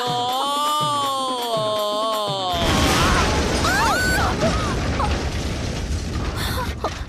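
A bomb planted in a college student's bag goes off: a sudden loud broadband blast cuts off the music, then a dense rumbling, crackling roar with scattered sharp chirps carries on to the end.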